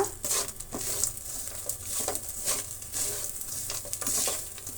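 Tempering crackling and sizzling in hot oil for coconut rice, with steady bright frying hiss and occasional spatula stirs, close and continuous without talk.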